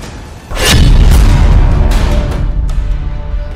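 A missile explosion: a loud, close boom bursts out and rumbles on for a few seconds, with a couple of fainter cracks trailing through the decaying roar.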